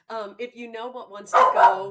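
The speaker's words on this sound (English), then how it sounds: "oh, sorry, that's my dog." A pet dog gives a quick pair of loud barks close by at the end, after a person speaks.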